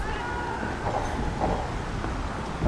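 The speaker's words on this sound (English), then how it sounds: "The metro train that just went through." A metro train rolls past the Kenilworth Avenue grade crossing in Kenilworth, Illinois, a steady, fairly loud rumble with faint clicking and swelling noise throughout, heard outdoors.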